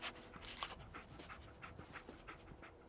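Dogmeat, the dog companion in the video game Fallout 4, panting: quick, rhythmic breathy huffs repeating steadily, close but quiet, with no speech over it.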